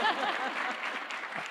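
An audience at a place-based partnership conference gives a short, full round of applause, dense and steady clapping that fills the brief moment and fades slightly at the end.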